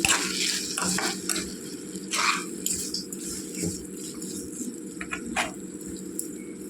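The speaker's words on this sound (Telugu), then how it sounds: "వెల్లుల్లి రెబ్బలండి. వేసుకొని కొద్దిగా వేపాలండి." Garlic cloves fry in a pan for a cucumber chutney, a soft, steady sizzle broken by scraping stirs and light metallic clinks of a spoon against the pan, with no talking.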